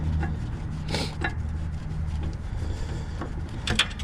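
Scraping and rubbing of a rear brake pad on a 2011-2024 Infiniti QX80 being worked free by hand, a close, continuous rasping with a few sharper knocks, no talking.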